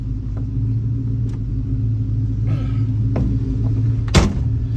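A 1970 Ford Mustang engine idles with a deep, steady close rumble, with a few faint clicks and a brief sharp knock near the end.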